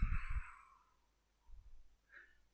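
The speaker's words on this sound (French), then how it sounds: "Une narine, celle que vous voulez, inspire. L'autre expire." Alternate-nostril breathing as in yoga, with the thumb and index finger closing one nostril at a time: a soft close breath followed by a faint airy inhale, quiet and unhurried with no voice.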